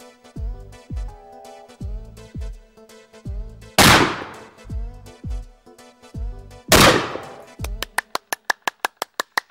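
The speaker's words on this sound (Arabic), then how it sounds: "سمعت صوت إطلاق النار؟" Two loud, sharp gunshots ring out over a rhythmic musical backing in a casino, followed by a rapid burst of evenly spaced shots near the end.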